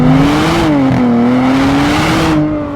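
Nissan Z engine revving hard through its automatic transmission, a loud, steady harmonic drone that climbs slightly and holds, close and continuous with no talk.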